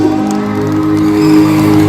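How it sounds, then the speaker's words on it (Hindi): A large crowd at a public gathering in Kangra roars loudly and continuously with cheering and whooping, forming a dense, sustained wall of sound. "स्वागत अभिनंदन कर दीजिए जोरदार तालियों और हल्ले के साथ"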